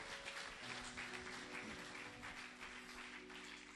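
A church congregation claps for the Lord, a sustained even patter of many hands with a faint organ or keyboard chord humming underneath.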